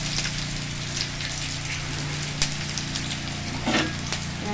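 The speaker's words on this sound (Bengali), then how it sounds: "পেঁয়াজটা ভেজে নেব।" Chopped onions frying in hot oil, a steady close-up sizzle with a few louder crackles and pops.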